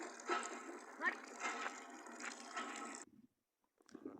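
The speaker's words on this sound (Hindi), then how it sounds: "ये देखो कितना पानी भर गया।" Water gushing from a very old hand pump into a tank, a close, steady splashing pour for about three seconds that stops abruptly, with a brief trickle afterward.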